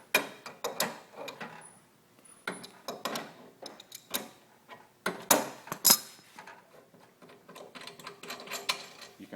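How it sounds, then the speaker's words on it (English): A crescent wrench working a small nut on a dryer, heard as close metallic clicks, scrapes and taps in irregular bursts, with no talking. "You can back this little nut off."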